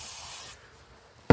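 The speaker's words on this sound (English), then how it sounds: "we're going to be putting belt dressing. It's aerosol." Aerosol belt dressing is sprayed into an old generator engine: a half-second hissing spray, a pause, then a sudden loud, close burst of spray at the end.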